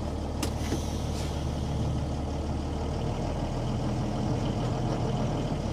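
A Renault Midliner 4x4 truck pulls away in first gear, its diesel engine a steady, loud low rumble with a brief hiss like an air brake release near the start, continuous and close with no talk.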